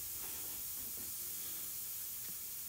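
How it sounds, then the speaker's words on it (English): A vintage Paasche airbrush sprays ink onto paper in a faint, steady close hiss with slight fluctuations and no talk. "just to show you how close, and that this brush is still spraying"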